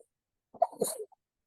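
A single quick sneeze, sharp and close, surrounded by near silence.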